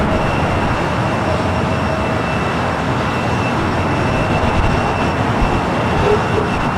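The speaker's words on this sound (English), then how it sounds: "The second flight coming up from Frankfurt, the 787-9 Dreamliner" A Boeing 787-9 Dreamliner arriving from Frankfurt at LAX gives off a constant broad engine roar with thin steady whining tones, heard alone without talk.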